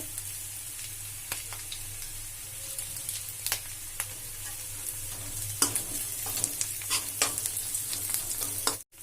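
Green chili frying in hot oil in a pan, a steady close sizzle with repeated sharp spatters and stirring scrapes that grow busier toward the end.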